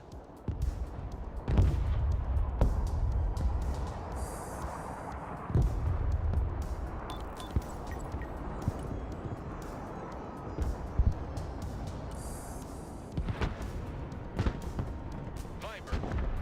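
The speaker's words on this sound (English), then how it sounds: "Mobile artillery reporting in. Artillery ready to fire, sir." Mobile artillery firing in the war game Broken Arrow: a few loud, deep booming shots, the heaviest early on, followed by scattered gunfire and distant rumbles under intermittent radio-style voice lines.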